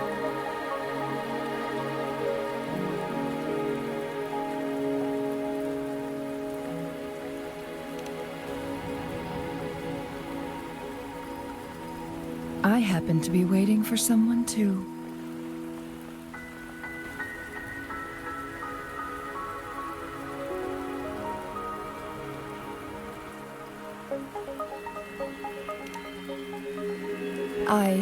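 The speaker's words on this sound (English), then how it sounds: "Are you trapped here by the rain?" Steady rain falls throughout a scene in the video game Wuthering Waves, a continuous soft patter running beneath a voiced line and music tones, with a brief louder burst midway.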